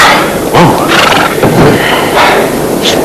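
Horse in a stable whinnying loudly and close, a few drawn-out neighs with breathy snorts between them.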